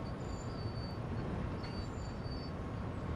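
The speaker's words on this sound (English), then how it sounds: "Yeah, this is a diesel train." A diesel locomotive in the Train Sim World game rumbles along steadily with dense low-end engine and rail noise, while faint high squeals come and go above it, continuous and close with no talking.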